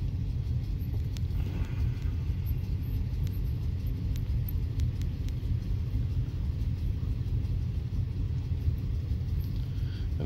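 A Roush supercharged Ford F-150 pickup, rated around 600 horsepower, sits nearby with its engine idling in a low steady rumble, constant and unchanging, with faint background noise at a night race event.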